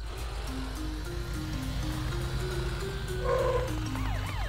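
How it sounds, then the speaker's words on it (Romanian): A cartoon patrol car's siren plays a stepped, rising electronic tone over a soft noisy background, then breaks into a short, louder warbling wail near the end. "Matt, folosește-și girofarul și sirena ca să-l trezești"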